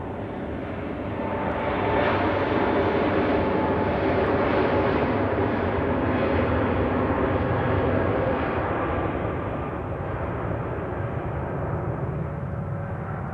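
An Etihad Airways jet airliner departs Zurich Airport on a winter day, a steady broad engine roar that swells slightly and then holds at a moderate distance for the whole stretch, with no talking.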